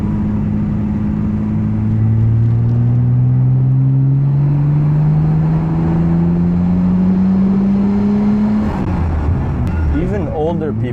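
A Nissan Skyline R34 is driven hard through a roundabout. Its engine drones loudly and climbs steadily in pitch as it accelerates, then the note shifts near the end. A voice talks over the engine throughout.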